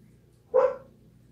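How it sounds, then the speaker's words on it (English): A single loud, close dog bark, short and sharp, over a quiet background hum. "Stop barking."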